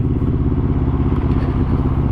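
Deep, throbbing exhaust pulses from a first-generation Yamaha MT-01 with an Akrapovic system, steady and loud at close range.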